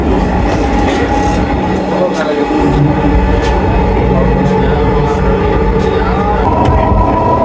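A Dhaka metro train rumbles steadily along with a constant low roar and rattling, heard from inside, with faint voices underneath.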